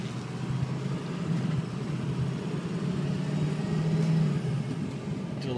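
A 2005 Ford F350 dually diesel 4x4 drives along, its engine a steady, moderately loud low drone with road rumble and a slight rise in effort near the end.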